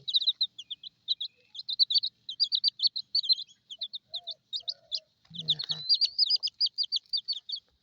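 Rapid high-pitched chirps from chicks, rhythmic and persistent, with someone briefly speaking Thai partway through.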